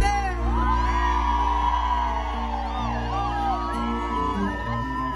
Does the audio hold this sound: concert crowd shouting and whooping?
yes